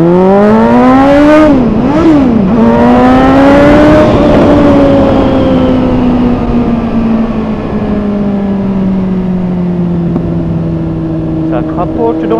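Can-Am three-wheeler engine revving up and down close by, then settling into a steady drone as the exhaust pops and crackles, loud and dominant.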